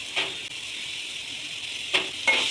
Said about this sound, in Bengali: দিয়ে আরেকটু ভালো করে ভেজে নেব